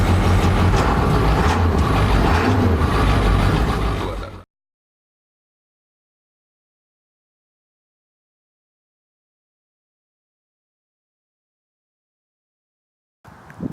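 A bus engine runs loud and rumbling for about four seconds, then cuts off abruptly into silence, and engine noise returns briefly at the very end.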